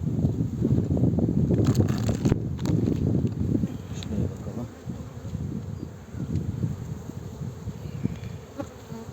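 Honeybees swarm and buzz at an opened hive in Muğla in April, a dense, close droning hum that persists throughout, with gusts of wind buffeting the microphone.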